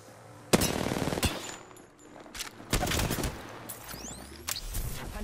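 Gunfire in the Apex Legends shooter game: a few loud bursts of rapid automatic fire broken by short gaps, with sharp impacts and some faint in-game effects between them.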